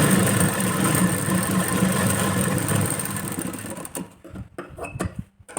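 A sewing machine runs steadily while stitching a strip onto a katori blouse, a close, continuous whirring hum that stops near the end, leaving a few scattered clicks and fabric handling sounds.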